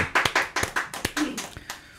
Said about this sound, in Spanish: Por favor, aplauso acá a la gente